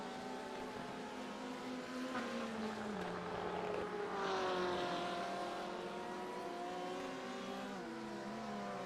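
A BMW race car in a sim racing game on Road America, its engine holding a loud, continuous high-revving drone with shifting pitch as it climbs and eases through gears, steady and close throughout.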